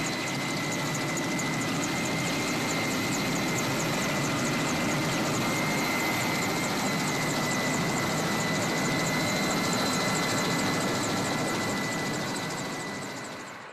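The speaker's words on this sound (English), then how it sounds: "the helicopter passes by Mount Fisht, the highest point of the Western Ridge" A helicopter flies past Mount Fisht on the Western Ridge of the Caucasus Reserve, its rotor a steady rapid chopping over a continuous turbine whine, loud and sustained throughout, fading slightly at the end, with no voices.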